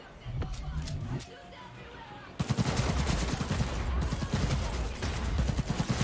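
Gunfire from the Cyberpunk 2077 video game: scattered shots at first, then a dense, loud burst of rapid automatic fire, with voices and crowd murmur mixed underneath.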